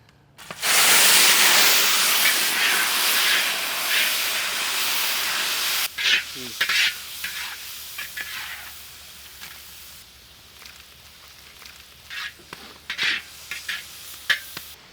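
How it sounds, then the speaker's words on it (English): Shrimp drop into hot oil with a loud, steady hiss and sizzle that carries through the first half, then eases into a quieter crackle broken by scattered sharp pops and spatters. "Now we will fry shrimp."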